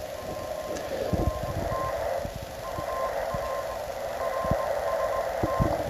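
A Heathkit HR-1680 SSB/CW receiver hisses steadily as it is tuned across the band while the preselector is adjusted, with faint tones and soft clicks from the controls running through the noise.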